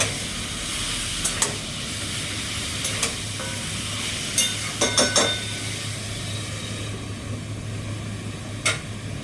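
Mutton curry fries with its spices in a wok, a steady sizzle with a hum underneath, broken by several distinct clinks and scrapes of a spoon stirring.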